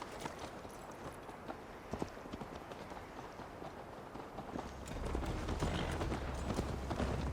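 Horses galloping in Assassin's Creed Valhalla, a steady rapid clip-clop of hooves on a long ride, with a low rumbling rise partway through and no voices.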